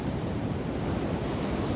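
Sea surf washes steadily onto the shore, a continuous loud roar of breaking waves with wind buffeting the microphone, no voices present.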